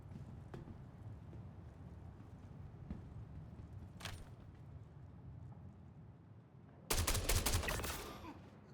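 Gunfire in the space game Star Citizen: a sudden loud, rapid burst of shots near the end, following quiet, rhythmic tapping movement sounds.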